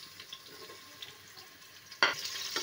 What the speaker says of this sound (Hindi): तो गाइस हमारा तेल गरम हो चुका है, हम इसमें अपना प्याज डालेंगे